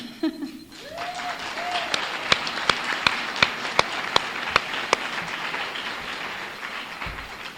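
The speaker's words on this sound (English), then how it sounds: "you all deserve a round of applause for that" An audience at a twentieth-anniversary gathering breaks into sustained applause, heard as a dense wash of clapping on an old cassette recording, with several loud sharp claps punctuating it near the start before it settles into a steady roar.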